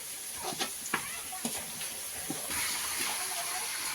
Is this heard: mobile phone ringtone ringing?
no